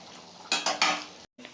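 Fish oil sacs fry in a pan with a soft background sizzle, broken by a few close metallic scrapes and clatters of a spatula against the pan, then a brief silence.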